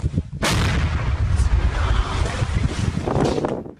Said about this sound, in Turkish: Diyarbakır Dicle'de yola döşenen o bombalar böyle imha edildi.